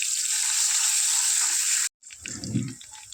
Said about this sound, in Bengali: তেলে দিয়ে দিচ্ছি রসুন আর পেঁয়াজ